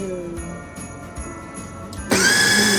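An electric chopper starts up abruptly near the end, giving a loud, dense whirring burst as it minces food, after a stretch of quiet kitchen background.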